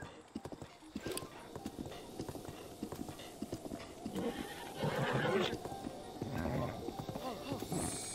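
Horse hooves clip-clop steadily with repeated neighs and whinnies while riding in the video game The Legend of Zelda: Breath of the Wild, under game ambience.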